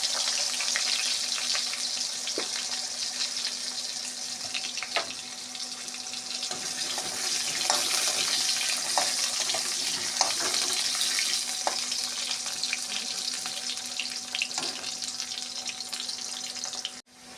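Steady sizzling of potatoes frying in hot oil with cumin, continuous and close, with occasional clinks of stirring and no voices.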